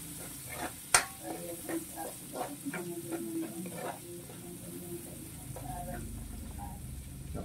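A spoon stirs coconut milk with ginger, tomato and onion in a pan for Bicol Express, giving soft repeated scraping strokes over a low sizzle, close and fairly quiet, with a sharp knock near the start.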